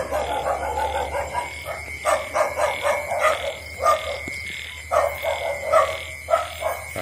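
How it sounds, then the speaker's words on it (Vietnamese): Frogs croaking at a pond, with repeated rhythmic bursts of croaks in clusters over steady background noise, fairly close and clear, with no talking. "Đây là một cái ao có ếch"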